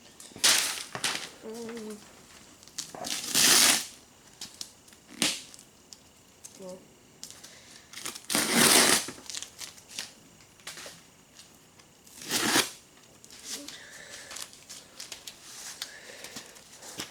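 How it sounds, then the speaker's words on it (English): Packing tape being ripped off boxed go-kart parts for a Crossfire 150 rebuild, several sharp tearing bursts of varying length spaced through the clip, with quieter rustling between them. "All right, rip that tape."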